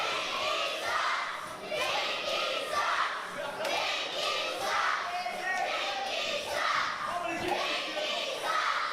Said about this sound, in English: And the crowd here in Nanaimo is giving it to Michelle Starr.